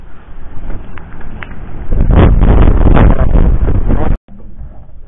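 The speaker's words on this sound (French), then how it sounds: "il y a 45 nœuds de vent" Strong 45-knot wind aboard a boat buffets the microphone in heavy, roaring gusts that swell and then cut out abruptly.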